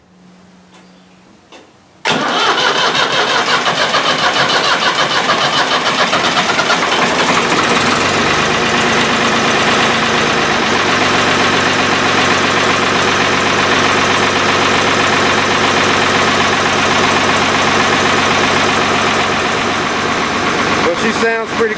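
An old tractor engine cranks briefly, then fires up and settles into a loud, steady rumbling idle that runs without a break to the end.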